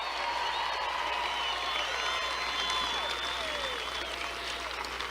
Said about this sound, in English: can we give a huge round of applause to the best First Lady